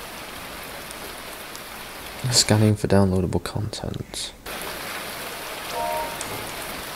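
A zombie video game's looping toilet-flush effect produces a continuous rushing, rain-like water hiss, while a voice speaks over the middle of it.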